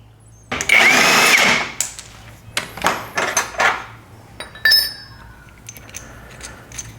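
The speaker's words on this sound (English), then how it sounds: "We just need to loosen these up, take them out, and hopefully the mount will slide right into place." Golf cart mount bolts on a Kandi Cruiser being loosened and taken out, a burst of power-tool whir followed by a series of short metallic clicks, rattles and clinks close by.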